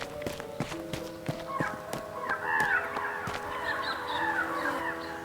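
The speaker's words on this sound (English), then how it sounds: "the makers of this mod added in a whole bunch of bird sounds" Bird calls added by a mod to the video game Final Fantasy VII: chirps and caws rise against a backdrop of regular clicks and thuds. The birds are moderately loud and keep calling in the second half, with no speech.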